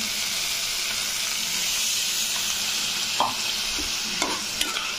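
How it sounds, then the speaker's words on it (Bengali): Spice paste frying in a pan with a little water added, a steady close sizzle running throughout with a few sharp stirring clicks and splashes near the end. "আর একটু ভাজবো জল দিয়ে"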